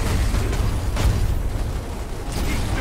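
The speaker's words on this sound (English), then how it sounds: "Grenade going out." A grenade exploding in Gears of War: a loud, dense rumbling roar with a sharper burst near the middle and another swell at the end, set in busy game noise.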